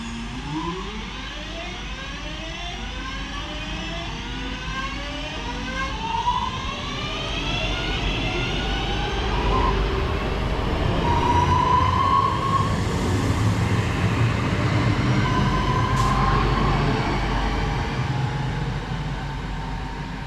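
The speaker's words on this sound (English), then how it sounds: "about to depart is 323230, heading off to Manchester Piccadilly from Crewe" A Class 323 electric train departing Goostrey station toward Manchester Piccadilly, its traction motors whining in rising, stepped tones as it pulls away, then a sustained rumble and hum as it gathers speed.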